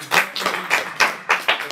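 A small audience at a talk on Haiti claps to welcome a filmmaker, a handful of distinct, uneven hand claps close up and fairly loud, with short gaps between bursts.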